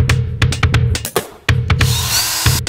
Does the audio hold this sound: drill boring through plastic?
yes